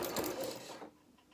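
A sewing machine runs a short stitching burst along a quarter-inch seam, a close rapid whirring chatter that stops abruptly after under a second, followed by quiet.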